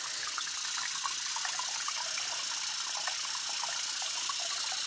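Tap water runs steadily over a Samsung phone held under a faucet, a continuous hissing splash at low level with no talking.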